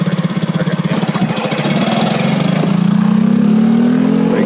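A Honda CT90 motorcycle engine idles with a lumpy, pulsing beat, then revs up smoothly and holds a steady, loud higher drone close by.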